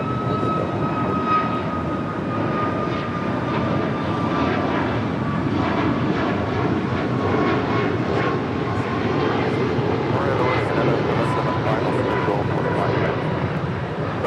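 An airplane rolls down runway 24 left at LAX, its engines a steady, broad roar throughout, with air traffic control radio voices talking over it.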